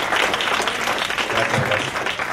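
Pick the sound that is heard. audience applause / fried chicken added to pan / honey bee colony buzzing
audience applause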